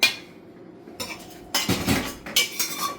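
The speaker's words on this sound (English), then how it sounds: "I am going to mix my pasta now with the cheese." Cooked macaroni is mixed with cheese in a dish as a utensil scrapes and clinks against it in several close, irregular bursts separated by short pauses, with no talking.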